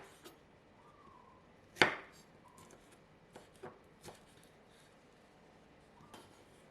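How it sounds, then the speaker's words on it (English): A knife chops red chili into long strips on a cutting board, with one sharp close thud followed by several lighter, sparse taps in a quiet kitchen. "Cut half of the red chili, about 50 grams, into long strips"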